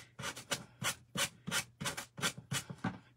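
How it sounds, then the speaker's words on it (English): A sanding block rubbing back and forth on a craft sign in about nine quick, steady strokes, close and fairly loud, with no talking. "I just have a sanding block. I'm just sanding off"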